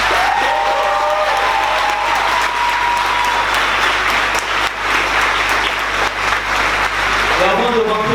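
A crowd of activists at a political party meeting applauds loudly and continuously, dense clapping with some cheering mixed in, filling the room for about eight seconds.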